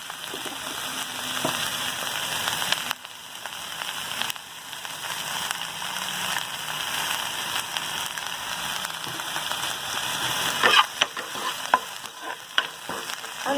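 Oil sizzles and fries steadily in a non-stick pan on a home stove while a paneer curry is being cooked, with a constant crackling hiss, occasional stirring scrapes and a brief sharper spatter near the end.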